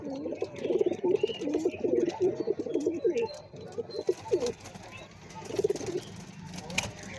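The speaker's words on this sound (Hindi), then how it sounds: "ये कुछ हमारे घर के कबूतर हैं।" Domestic pigeons kept at a home coo in repeated soft, rolling calls, close and fairly quiet, fading out partway while faint background noise continues.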